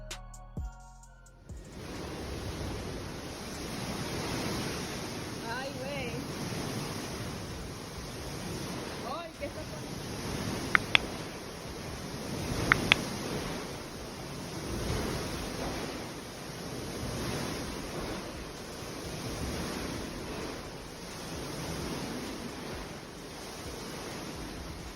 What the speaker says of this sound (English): Water floods the deck and the waves get bigger and bigger.